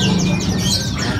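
Caged songbirds at a large Indonesian bird market give quick, bright overlapping chirps and trills over a brief, busy background.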